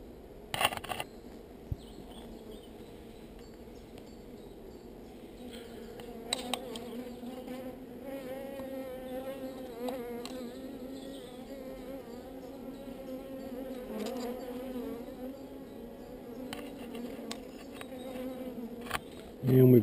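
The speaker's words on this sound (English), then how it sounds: "Just let the bees do what bees do." A steady, dense buzz of many honeybees around a hive close by, continuous throughout with a few louder passes near the microphone.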